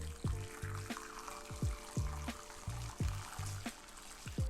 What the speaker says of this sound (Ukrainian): та заливаємо їх кип'ятком.